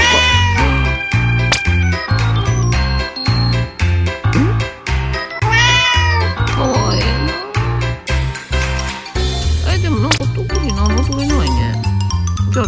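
A cat meows repeatedly in the Japanese game Lucky Boy, bright cartoonish mews rising and falling over loud, bouncy game music with a steady beat and chiming tones.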